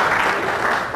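An audience applauds, dense clapping from a crowd heard briefly and steadily at moderate loudness.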